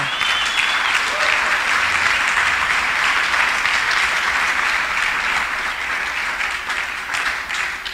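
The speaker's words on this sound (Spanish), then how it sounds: "démosle un aplauso al Rey" Sustained audience applause fills a church service, a dense steady wash of clapping from a large congregation that holds at even loudness for the whole stretch, with scattered voices faintly mixed in.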